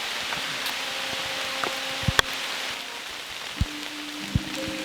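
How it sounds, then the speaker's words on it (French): Rain beginning to fall outdoors, a steady soft hiss of drops on surfaces with a few sharper individual drop ticks, fairly quiet and without any talk. "Il commence vraiment à pleuvoir"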